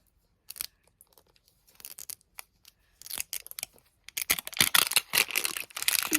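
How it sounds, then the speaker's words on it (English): Plastic packaging of a Miniverse kit is peeled and torn open by hand, starting with sparse sharp crackles and tears that build into a dense, loud run of crinkling and ripping up close. "So let's start peeling."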